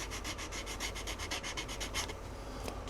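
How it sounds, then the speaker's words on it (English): Sanding stick rubbed back and forth along a model rocket launch lug on an Estes Hi Flier build, a close, steady rhythmic rasping of fast even strokes that fades out near the end. "We're going to sand down the length of the lug."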